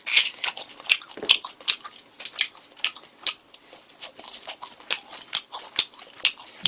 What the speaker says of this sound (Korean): 계속해서 치킨 먹고 있고